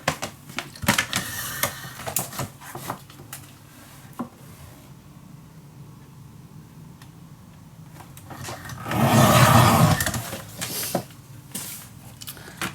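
A 1mm board is trimmed to 7 inches while making a desk storage box: scattered light clicks and taps, then one loud, rasping cutting stroke lasting about a second near the end, with no talking.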